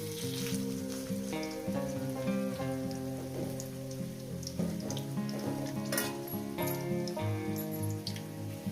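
Onion pakoras frying in hot oil, giving a steady, dense sizzle that runs unbroken throughout, with a constant tonal hum layered over it.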